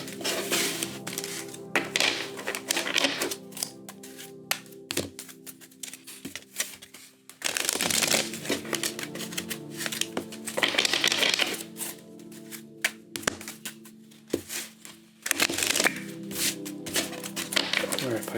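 Tarot cards are shuffled in several bursts of crisp riffling and slapping, close up, with pauses between the rounds of shuffling.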